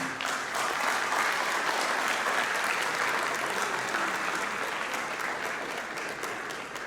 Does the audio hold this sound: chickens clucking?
no